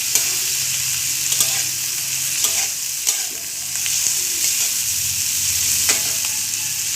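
Bottle gourd fries on a low flame in a pan, giving a steady bright sizzle broken by repeated clicks and scrapes of a spatula stirring it, close and fairly loud.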